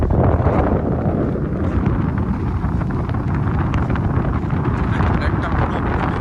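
Strong wind buffets the microphone on a beach near Puri, a loud, steady low roar with gusts that runs through the whole stretch.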